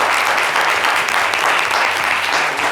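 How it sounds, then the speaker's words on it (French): Loud, dense applause from a crowd at a live event, continuous and close, with no speech over it. "On peut l'applaudir très très fort."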